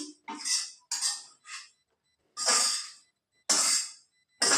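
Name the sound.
food being filled into a hotpot (insulated food container)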